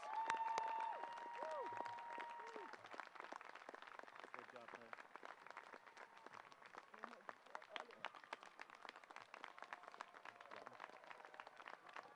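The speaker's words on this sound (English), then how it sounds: "Will you all please give another round of applause for our graduates?" Applause rises for graduates at a university commencement ceremony in Minnesota, a broad crowd clapping that stays steady and dense throughout, heard from a distance in a large hall with scattered cheers.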